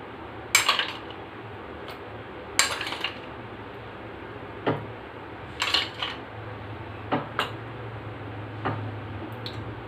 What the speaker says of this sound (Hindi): इसके अंदर डालते हैं आइस क्यूब्स